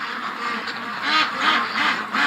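Ducks quacking in a large flock circling a metal shed in the bush at night, a steady chorus of overlapping calls swelling in a few louder pulses.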